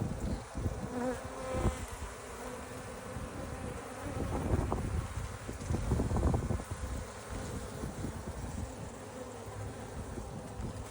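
Bees swarm close around a bucket trap, a dense continuous buzzing with individual insects swelling louder as they pass near, plus light wind rumble and a few handling bumps.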